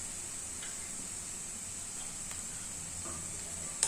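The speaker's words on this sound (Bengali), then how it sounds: "এবার গ্যাসের আঁচটাকে বাড়িয়ে দিয়ে মশলাটাকে ভালো করে কষিয়ে নিতে হবে, যাতে টমেটোর কাঁচা গন্ধটা চলে যায়" Masala paste of tomato and spices sizzles in a pan over high heat while making kadai paneer, a faint steady hiss with occasional light stirring scrapes.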